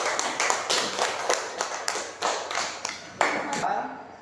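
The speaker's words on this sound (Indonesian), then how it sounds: "Tepuk tangan." A crowd claps in a steady burst, many hands together, with the rhythm loosening and fading toward the end.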